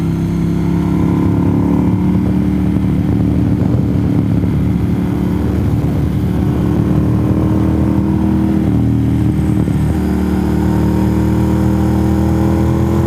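A motorcycle rides along NC 28 near Franklin, North Carolina, with wind steadily pummeling an oversized face shield, producing a loud, continuous roar and rush over the engine drone throughout.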